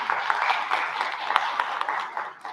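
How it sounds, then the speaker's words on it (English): Steady applause from a crowd at an international education conclave, a dense wash of clapping lasting a couple of seconds at moderate volume, thinning slightly toward the end. "Maybe a round of applause?"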